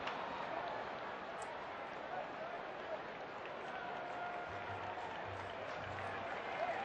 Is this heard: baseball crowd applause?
yes